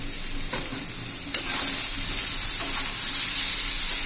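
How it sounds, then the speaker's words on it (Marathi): Raw banana pieces seasoned with salt and turmeric sizzle in hot oil as they are stirred and sautéed, a steady close hiss that grows louder after a stir about a third of the way in. "तेलामध्ये चांगले परतून घेऊया कलर बदलेपर्यंत"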